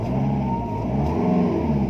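A 2009 Nissan Navara LE pickup engine revs up close, steady and loud, holding a strong low drone for about two seconds with no one talking.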